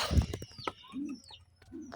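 Pigeons coo in short, low, soft bursts, with a few faint chirps and rustles between them. The birds sound close, and no one speaks over them.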